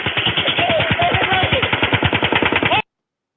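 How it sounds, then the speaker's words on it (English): Rapid automatic gunfire rattles off in a long, fast, evenly spaced burst, loud and continuous for almost three seconds before cutting off abruptly. "You can hear the guns in the background"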